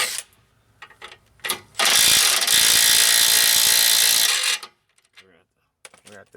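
A ratchet wrench or power tool works on the track bar bolt of a Jeep TJ in a garage, giving one loud, sustained burst of grinding, clattering mechanism about three seconds long, with brief tool clinks before and after and no speech.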